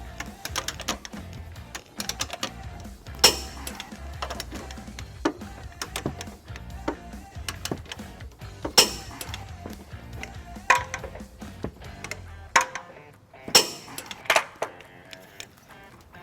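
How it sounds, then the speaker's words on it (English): A 13mm socket on a ratchet torques down trailer hitch bolts on a 2014 Hyundai Elantra GT, with rapid clicking ratchet bursts and metallic ticks repeating close up, no talk. "we're ready to torque down our bolts to the required specifications"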